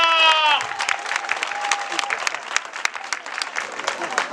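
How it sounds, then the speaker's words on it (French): A village crowd at an electrification ceremony in Côte d'Ivoire claps loudly after a speech, sharp dense handclaps filling the clip just after a voice trails off. "Ça s'applaudit très fort!"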